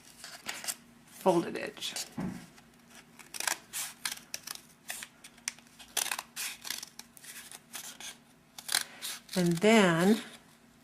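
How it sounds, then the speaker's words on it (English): Scissors snipping slits across a cardboard toilet paper tube, a run of short crisp cuts close by, heard alongside someone speaking calmly throughout. "Just cut those slits all the way across, and then leave that 1/2 inch there on this cut edge"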